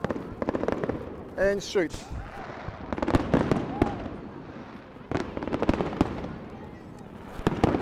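Fireworks burst at night over a distant moonlit sky, a scattered run of sharp pops and crackles of varying loudness, with someone talking in between.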